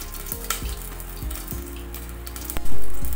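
Onions dropped into hot oil for a soya chunks curry sizzle and fry steadily, a close, continuous crackle with a louder surge of hissing near the end.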